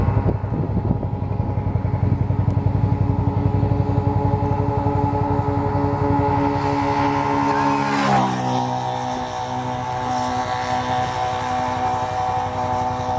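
Two motorcycles riding side by side so their engines merge into a single droning sound, a steady loud hum with a layered pitch that shifts and bends partway through as the machines change speed.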